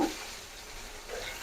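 Surma fish fries in hot oil, giving a steady close hiss of sizzling that swells slightly at the start and end of a short stretch.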